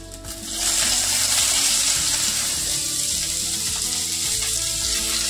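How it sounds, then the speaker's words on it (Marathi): Onion frying in a kadhai with a little oil, a loud, steady sizzle that swells after a brief quieter start and holds evenly, close up and alone. "सेम कढईमध्ये आपण जो कांदा घेतलाय तो तळून घेणार आहे।"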